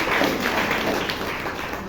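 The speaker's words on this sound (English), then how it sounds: "Round of applause" Applause from a Toastmasters club audience in Bangalore, a dense steady patter of many hands clapping throughout, fairly close and even in loudness.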